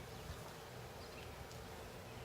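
A steady, dense insect buzz hums continuously from honeybees grouped inside a hive, like many bees droning together close by, with no voices.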